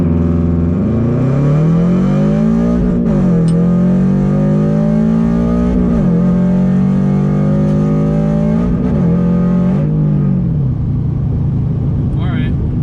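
A modified 2022 Subaru BRZ accelerates hard from a stop, heard from inside the car. Its engine note rises loudly through several gears with short dips at each shift, then eases off.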